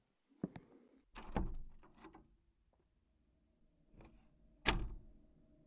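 An office door is handled and opened in a quiet room, a few soft knocks and thunks with a rattling latch, then a louder clunk near the end, close and otherwise silent.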